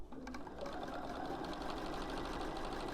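Sewing machine stitching a quilt seam, a fast steady mechanical whir with rapid needle ticks running continuously, close and fairly quiet.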